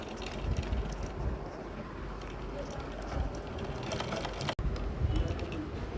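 A sewing machine stitches a boat neck kurti, its steady mechanical whir running continuously with a brief break, under a voice.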